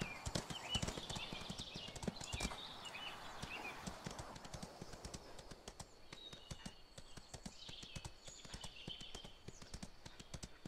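Hooves of a ridden horse in the Ostwind video game clop in a quick, steady rhythm throughout, quite near, with faint chirps above them and no speech.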